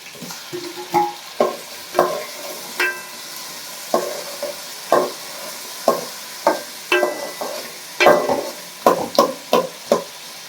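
A spoon scrapes and clatters in a pan as goat intestine curry with tomato is stirred, sharp irregular knocks repeating close over a soft steady sizzle of frying, with no talking.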